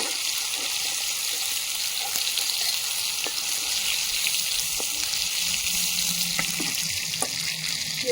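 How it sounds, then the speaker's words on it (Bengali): Sliced eggplant frying in hot oil in a Bengali home kitchen, giving a steady, close hiss of sizzling throughout with a few faint clicks and no talking. "ভেজে রাখা বেগুনগুলো ভেজে নেব"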